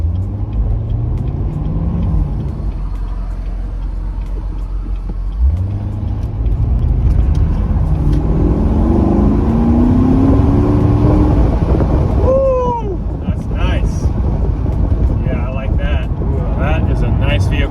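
A Chevrolet Corvette C7 cruises steadily on the road with a low engine drone and tire rumble, a voice speaking over it.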